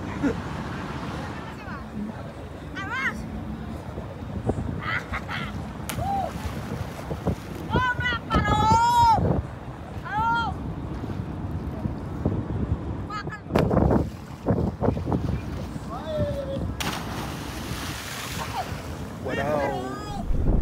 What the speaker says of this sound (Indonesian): jam 13:15 kapal ini sudah meninggalkan pelabuhan Ketapang